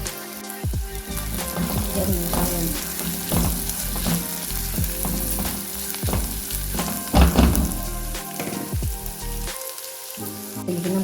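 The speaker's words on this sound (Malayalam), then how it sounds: "ഉള്ളി ഒന്ന് വാടി വരുമ്പോൾ നമുക്ക് ഇഞ്ചിയും വെളുത്തുള്ളിയും ചതച്ച് വെച്ച് ഇട്ട് കൊടുക്കാം കേട്ടോ ഇനി അതൊന്ന് മൂക്കട്ടെ" Onion with crushed ginger and garlic frying for a prawn curry, a steady loud sizzle in a pan with stirring scrapes and utensil knocks throughout, briefly dipping near the end.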